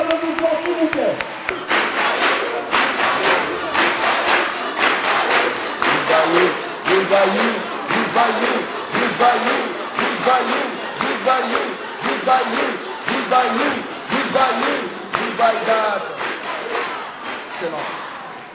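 A large crowd at an outdoor-style graduation ceremony for company agents claps steadily with loud cheering and shouting, the rhythmic bursts of applause sustained throughout at close range.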